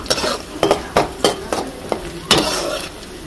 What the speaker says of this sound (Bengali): এখানে পেঁয়াজটা কিন্তু হালকা লাল করে নিব, বেশি লাল করব না